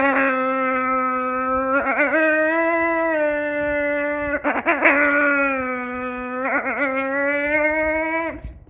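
A person imitates a higher-ranking alpha wolf howl: a lower, steady sustained tone broken by brief wavering bends, continuing for several seconds close to the listener.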